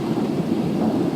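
Thunder from a winter snow thunderstorm in France rumbles close and loud, a continuous deep roll with a soft hiss of precipitation beneath it and no voices.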